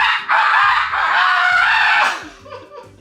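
A woman imitates a cockerel crowing with her voice, a loud sustained strained call lasting about two seconds, trailing off into brief quieter vocal noises and talk.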